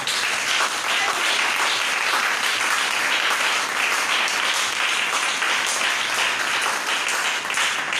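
A church congregation at a divine healing seminar applauds in steady, dense, loud clapping that fills the whole stretch without a break.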